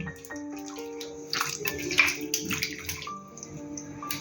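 Water drains off marinated mandeli (small anchovy-like fish) as it is poured from the container in a home kitchen. The pour runs as a steady, close splashing stream, with tonal background sounds underneath.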